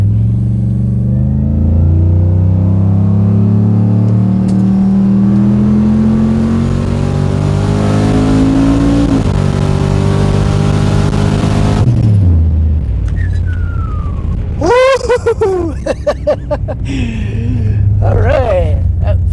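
A truck engine builds boost with a rising, droning rev that climbs steadily for about twelve seconds, then launches with a loud surge and falls into a rumbling cruise. Someone talks briefly near the end.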